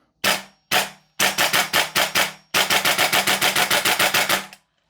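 A Guns Modify SCAR L MK2 gas blowback airsoft rifle empties a full magazine, first with a few spaced single shots and then a rapid string of sharp, loud, close cracks, alone with no talking.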